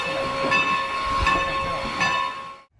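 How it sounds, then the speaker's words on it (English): Little model trains run in a circle around a Christmas layout, giving a steady close mechanical rumble with clacking wheel pulses and a high tonal whine, fading out at the end. "just by having these little trains go around in a circle"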